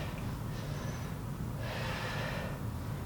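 Breathing during deadlifts shows as two strong, breathy exhale-like pushes of air, close and loud over a constant low background rumble, with no speech.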